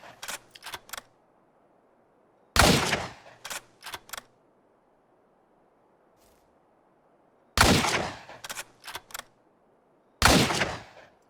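Carlington sniper rifle fired in the survival game Miscreated, a handful of sharp, loud single shots spaced seconds apart, each with a brief decaying tail, separated by lighter mechanical clicks of the bolt and near silence.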